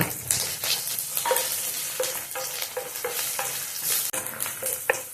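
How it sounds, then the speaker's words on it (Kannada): Onions frying in a hot pan with dried red and green chillies, crackling and sizzling steadily while a utensil stirs them with repeated scraping taps, close and fairly loud, with no talk. "ನೋಡಿ ಈರುಳ್ಳಿ ಕೆಂಪು ಹುರಿತಾ ಇದ್ದಾವೆ ಚಟಪಟ ಇದ್ದಾವೆ"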